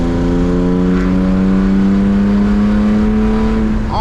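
A manual BMW E36 328i being driven, its loud exhaust droning steadily throughout with a strong, even engine tone that holds a roughly constant pitch, close and continuous with no speech.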